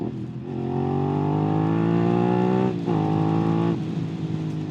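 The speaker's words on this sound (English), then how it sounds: "the sound of this bike is amazing" A Suzuki SV650 motorcycle engine revs up close and loud, its pitch climbing steadily, dips briefly, then climbs again under a rough, throaty tone.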